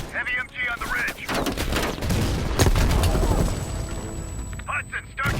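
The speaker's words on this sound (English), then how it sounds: "Heavy MG on the ridge." Heavy machine gun fire from a ridge position in Call of Duty: Black Ops Cold War, sustained dense bursts booming through the middle of the clip under battlefield noise, with voices talking over the start and end.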